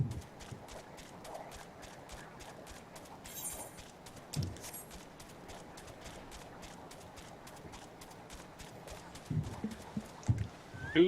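Horse galloping in a video game, a steady fast clip-clop of hooves running continuously throughout at moderate level, with a few louder thumps near the end.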